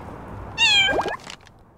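A cat meows once, close and clear, in the Little Kitty, Big City video game: a single drawn-out call that stands alone with no talk over it.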